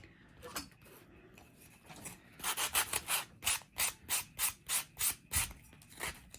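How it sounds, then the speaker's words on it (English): Small cut craft pieces for holiday decorations being sanded by hand, close and quiet, a run of about a dozen quick rhythmic scratchy rubbing strokes after a few softer scrapes, with no talking. "I'm going to sand them."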